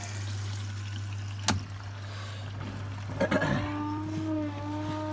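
Water sloshes and trickles during the final rinse of a Hotpoint WMFUG 942 washing machine, over a steady low motor hum, with a couple of sharper splashy knocks partway through.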